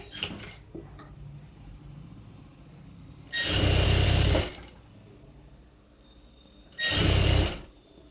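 A sewing machine stitches a folded palazzo pant hem in two loud bursts of rapid clatter, each lasting about a second, separated by quieter handling noises and faint clicks nearby.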